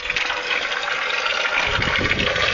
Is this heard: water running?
yes